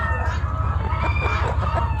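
A big laying hen, likely a Blue Laced Red Wyandotte, makes soft clucking and chattering calls close by over a steady low rumble.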